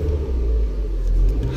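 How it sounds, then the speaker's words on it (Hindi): Car engine revved while heard from inside the cabin, a deep steady low rumble with a slight swell in revs, close and brief with no talk. "अंदर से आवाज़ सुना देते हैं रेव करके।"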